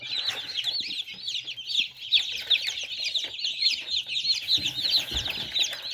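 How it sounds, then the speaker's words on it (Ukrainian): Newly hatched chicks in an incubator peep constantly in a busy chorus of high, rapid chirps, close and fairly quiet, with light handling noises beneath. "Також зараз дістаю курчат."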